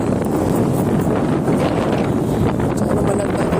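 Wind buffets a fishing boat at sea off Bahrain, a steady, loud, close roar of gusts rumbling across the microphone without letup.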